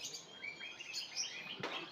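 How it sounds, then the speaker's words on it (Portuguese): Cockatiels and lovebirds at an ornamental bird and cage market chirp in quick, bright, overlapping tweets, fairly close but quiet, over a soft background hum. "Aqui na frente tem esses pássaros exóticos aí, ó. A calopsita,"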